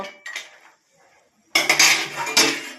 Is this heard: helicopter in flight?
no